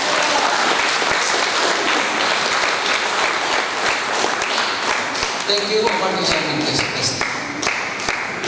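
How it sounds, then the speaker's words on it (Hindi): An audience at a club handover ceremony claps in a loud, sustained burst of many hands, with someone speaking over the applause and briefly thanking them as it goes on. "ताली बजा सकते हैं।"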